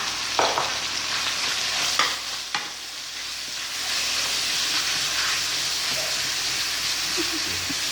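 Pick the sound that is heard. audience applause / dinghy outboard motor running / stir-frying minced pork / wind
stir-frying minced pork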